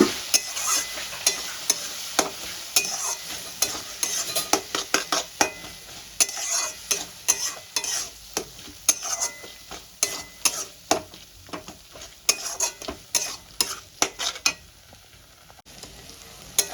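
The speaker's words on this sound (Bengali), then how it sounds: "আমি আদা রসুন কাঁচা লঙ্কাটা দিয়ে খুব ভালো করে কষিয়ে নিচ্ছি" Ginger, garlic and green chilli paste sautéing in a hot pan for a rohu fish curry, with a steady sizzle broken by repeated close scraping and stirring strokes of a spatula against the metal.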